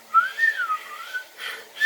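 A voice whistles an imitation of an oscillating tone that wavers up and down in pitch between a hiss and a whistle. It comes in a few gliding, uneven phrases, close and moderately loud, with no other sound around it.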